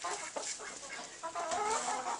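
Free-range hens clucking in a small flock, a steady scatter of short calls close by with no talk, a few brighter squawks rising near the end.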